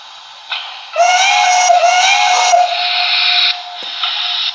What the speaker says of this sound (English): Obviously, that's the whistle for her.